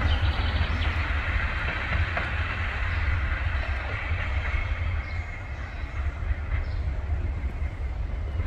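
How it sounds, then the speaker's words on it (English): A Class 37 diesel locomotive, 37425, departs Muir of Ord in northern Scotland, rumbling at a steady drone, with a deep low engine hum and faint rail noise, no voices. "It's the man himself, Angry Bob, 37425, departing Muirvord, working 0Z25, the 1455 Inverness to Inverness via Tane"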